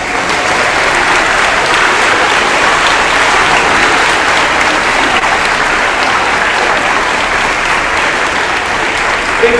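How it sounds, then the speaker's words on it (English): Students at a sixth-grade end-of-year awards assembly applaud loudly, a dense, even wash of clapping across the room that continues steadily without pause. "so we can give you a nice round of applause"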